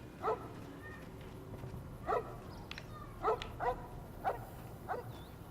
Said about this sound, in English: Hello, doggy. I want that doggy.